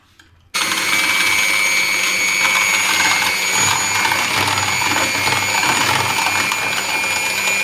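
Lassi of half a litre of milk, yogurt and sugar churning in a machine until frothy: a loud, steady mechanical whir that starts abruptly and runs unbroken, with no voices.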